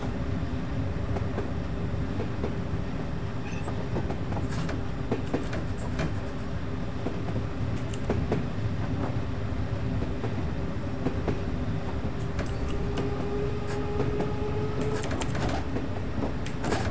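A C69 stock London Underground train in Train Simulator 2020 runs steadily with a rumbling, rattling drone and a faint whine, plus scattered clicks and clunks throughout.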